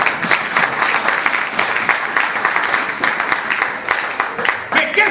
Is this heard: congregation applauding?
yes